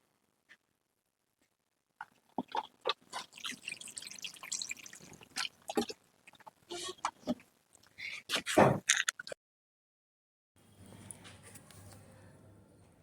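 Water is poured into soil in a plant pot planted with garlic, with irregular splashes and drips, then a softer steady trickle near the end.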